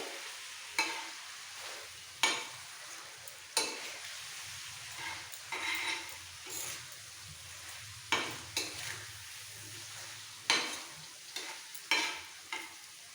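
Chicken sautés on an open tawa with a continuous sizzle. A spatula scrapes and stirs in repeated strokes at irregular intervals, loud and close, with no voices.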